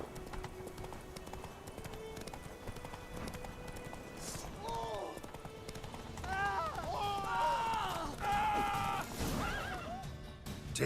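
Hooves of Roach, a horse in The Witcher 3 video game, clip-clop at a steady run while the horse whinnies several times; game music and effects sit underneath.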